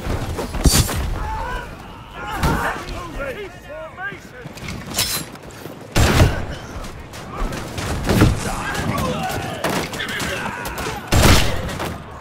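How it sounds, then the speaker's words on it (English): Massed musket volleys ring out in a video game siege, several loud broadband cracks spaced a few seconds apart over a busy battlefield din, with voices shouting throughout. "Volley fired!"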